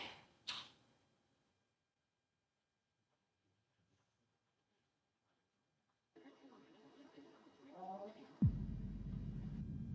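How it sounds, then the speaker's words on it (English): A door swings shut at about 8.5 seconds with a loud, low thud that fades into a sustained rumble, after rustling and a brief knock near the start and long quiet stretches. "Sound like a door closed."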